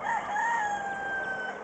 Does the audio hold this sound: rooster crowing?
yes